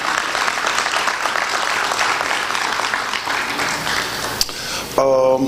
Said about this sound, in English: Joseph Godfrey, can you give him a hand clap?